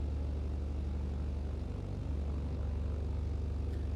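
A Piper Cub bush plane engine in a flight simulator game drones as a steady, loud propeller hum with a low rhythmic throb, continuous and unchanging throughout, with no voices.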